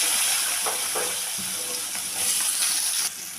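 Nigella seeds, drumsticks and potatoes sizzle steadily in hot oil, a bright continuous frying hiss with small pops and stirring scrapes, close and fairly loud.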